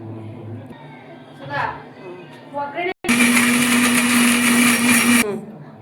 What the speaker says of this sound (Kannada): ರುಬ್ಕೊಳ್ಳೋಕ್ಕೆ ಮೆಣಸಿನ್ಕಾಯಿ, ಧನಿಯಾ, ಶುಂಠಿ, ಬೆಳ್ಳುಳ್ಳಿ, ಕಾಯಿ ಮತ್ತು ಕೊತ್ತಂಬರಿ ಸೊಪ್ಪು, ಪುದೀನ ಸ್ವಲ್ಪ ಹಾಕೋತಾ ಇದ್ದೀವಿ